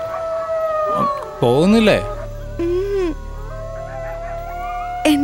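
A jackal gives long rising and falling howls, loud and fairly near, repeated several times, while a person speaks briefly between the howls.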